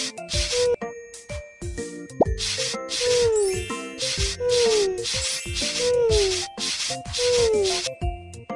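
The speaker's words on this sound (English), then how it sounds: "Hey, use the brush." In a kids' pet care video game, a puppy is being brushed: repeated bursts of rough scrubbing come in a steady rhythm, each paired with a bright, falling tonal chime and a light game melody.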